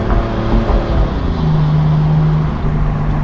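A 2020 BMW M4 Convertible's exhaust rumbles loud and close after lifting off the throttle, with a low, uneven burbling drone and a steady tone from the drivetrain.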